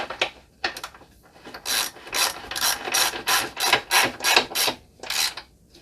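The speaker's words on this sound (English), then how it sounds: "Now all that remains is to tighten up the axle nut." A hand ratchet clicks in a steady series of strokes while tightening the rear axle nut on a Yamaha YZF R125 motorcycle, with close, crisp bursts and short pauses between strokes.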